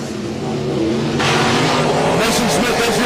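Non-wing sprint cars racing on the Heart O' Texas Speedway dirt track, engines roaring loud and close as they accelerate and pass, with a commentator talking over them.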